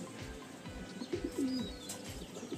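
A female Madrasi pigeon in a loft gives a clear rolling coo in the middle, with softer cooing and faint chirps around it.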